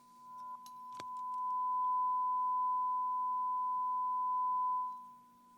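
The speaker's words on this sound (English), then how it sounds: "1000 hertz sine wave." A steady 1000 Hz sine tone from a signal generator hums clean and unchanging for several seconds, preceded by a brief click, then fades out at the end.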